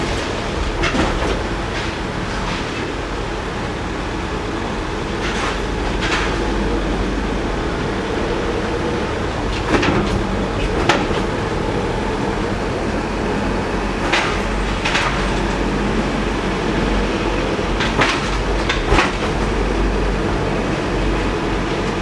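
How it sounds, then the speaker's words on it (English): Inside a moving train carriage, a steady rumble of wheels on rails carries on throughout, with periodic clicks and rattles as it rolls along. "We're now sitting in the car, in the train."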